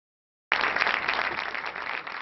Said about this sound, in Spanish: Una ovación de varios minutos ha despedido al gran maestro del cine español, Luis García Berlanga